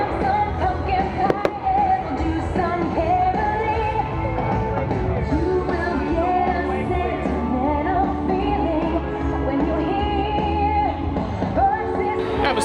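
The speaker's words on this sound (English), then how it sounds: "Fireworks at Hollywood Studios outside of Fantastic are rare these days." Disney fireworks display at Hollywood Studios during a nighttime show, a steady dense wash of booms and crackle layered with loud music and crowd noise throughout, with faint voices mixed in.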